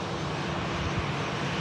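An EasyJet airliner arriving from Palma at Manchester Airport produces a steady, broad jet-engine roar, fairly loud and unbroken over a short moment, with no voices.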